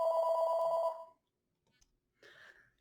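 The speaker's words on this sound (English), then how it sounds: "so as I was saying before the phone rang" A telephone rings indoors with one loud, electronic trilling burst lasting about a second, followed by silence, a faint click and a brief softer noise.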